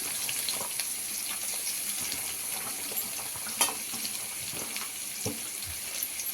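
Chopped ivy gourd (dondakaya) and curry leaves fry in a pan with a quiet, continuous sizzle, broken by occasional soft clicks and stirring taps.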